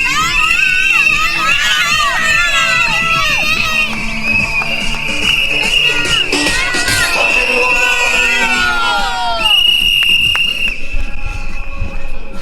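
Crowd of cheerleaders singing beside a 10k road race in Alicante, loud mixed voices with shouts and whistles, continuous and close.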